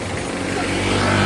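A Mitsubishi Adventure engine, being serviced for weak pulling power and an oil change, idles smoothly and steadily up close, a continuous low even hum with no talk over it.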